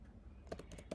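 Computer keyboard keys clatter as code is typed into a Jupyter Notebook, a short burst of a few quick keystrokes close up after a brief quiet moment.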